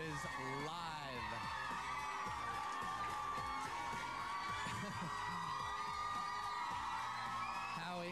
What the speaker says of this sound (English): You're looking at a live shot of the record-breaking crowd outside our MTV studios for Backstreet Boys Live